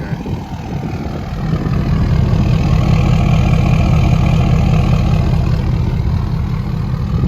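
A Ford 6.7 Powerstroke diesel pickup with a 5-inch exhaust idles hot and steadily with a deep, rumbling exhaust, loud and close, no voices.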